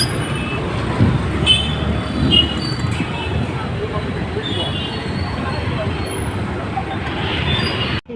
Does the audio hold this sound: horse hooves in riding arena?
no